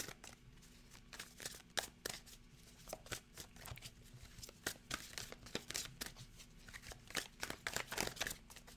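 Tarot cards are shuffled close by in rapid papery riffles and snaps, irregular bursts repeating over several seconds, quiet and without talk.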